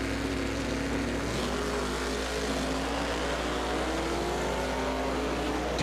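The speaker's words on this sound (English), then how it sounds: "Big turbos on that Mustang in the right lane. You can hear that thing spool up." Big turbos spooling up on a Mustang drag racing in the right lane at a grudge race, a loud, steady engine roar with a rising turbo whine that holds for several seconds.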